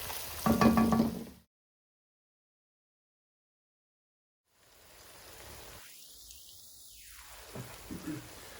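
A curry base fries gently in a pan over a medium-low gas flame, giving a faint, soft sizzle with a brief louder burst at the start, then a silent gap before the quiet bubbling hiss resumes.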